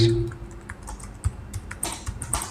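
Fingers typing a ChatGPT prompt on a computer keyboard, a quick uneven run of close, crisp key clicks with a brief voice at the start.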